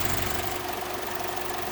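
A car engine that survived a flood idles with a steady, even hum and faint rhythmic knock, continuous and fairly quiet with no talking.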